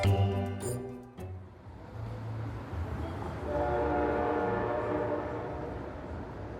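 A train pulls into a station with a loud horn blast at the start, then a long steady rumble and rising rail clatter as the cars roll in and slow.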